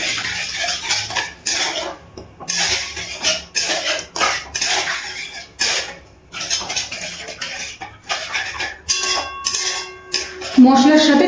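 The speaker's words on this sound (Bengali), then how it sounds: "এবার মশলার সাথে ভালো করে মিশিয়ে নিচ্ছি।" Spices being mixed with chhana water in a metal cooking pan: a spoon scrapes and clatters against the pan in quick, uneven bursts, loud and close, with a few squeaky strokes near the end.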